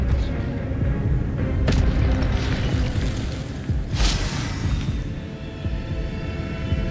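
Expelliarmus spell cast in Hogwarts Legacy, a deep booming magical burst with low throbbing rumble and a bright whooshing flash partway through, fairly loud and without speech over it.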